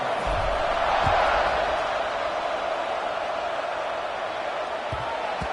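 Steady distant roar of a stadium crowd at a college football kickoff, a broad sustained wash of cheering with no distinct individual voices.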